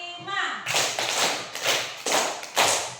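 Several sharp hand claps in a steady rhythm, close by, after a brief moment of a voice at the start.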